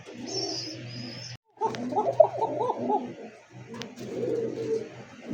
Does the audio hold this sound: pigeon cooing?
yes